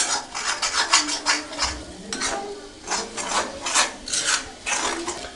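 A spoon scrapes and rasps rhythmically against a pan while stirring Kerala-style egg thoran, in repeated close strokes with no talking.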